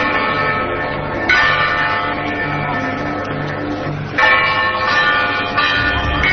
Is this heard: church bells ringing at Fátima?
yes